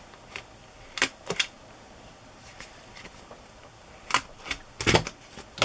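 A worn paper punch used while making cookbook journals, giving a handful of sharp, close clicks and snaps in scattered pairs and small clusters, separated by quiet stretches, with no talk.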